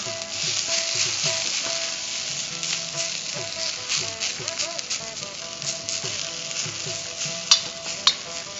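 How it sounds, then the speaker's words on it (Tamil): Vallarai (Indian pennywort) greens sizzle and hiss steadily in a hot pan, with occasional stirring scrapes and a couple of sharper clinks near the end. "இப்போ இந்த கீரை நல்லா வதங்கிடுச்சு"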